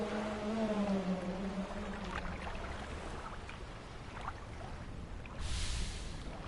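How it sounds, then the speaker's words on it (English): Blue whale call from the fishing game Dredge, long low moaning tones that slowly bend in pitch over a faint watery bed, followed by quieter creaks and a soft splash, no voices. "Oh shit, blue whale."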